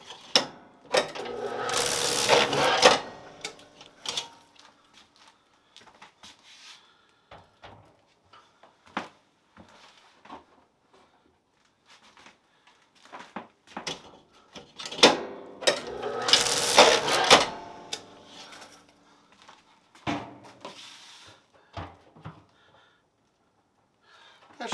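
A honey extractor runs in bursts during a honey harvest, giving mechanical rattling and whirring surges around two loud peaks, with clicks, knocks and quieter gaps between them.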